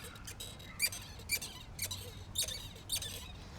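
Sharp, high squeaks from a Kugoo Kirin G4 electric scooter repeat roughly every half second in a regular rhythm, fairly quiet and close, over a low rolling hum.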